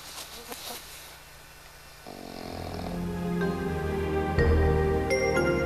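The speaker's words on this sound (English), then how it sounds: "there's Dad just snoring away." A man snores steadily in a quiet outdoor setting on an Alaskan coastal hunting trip, slow rough breaths rising and falling at close range with no talk.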